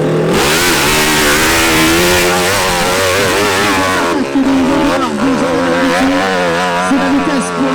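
A hill climb motorcycle at the Arette Hill Climb 2019 launches up the slope, its engine revving hard and loud with rising and falling pitch, while a commentator talks over it.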